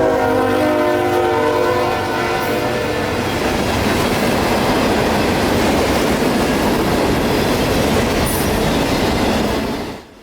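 Q604, a short nightly mixed freight of aggregate hoppers out of Winston Yard in Lakeland, rumbles loudly past on city rails at night, its horn sounding in long blasts over the roar of passing cars before the noise cuts off.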